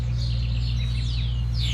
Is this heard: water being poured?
no